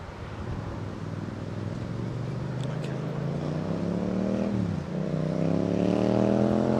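An Aeromexico Boeing 787 Dreamliner at Heathrow Airport builds a loud, rising engine drone with shifting tonal whines, briefly dipping before surging again, close and continuous.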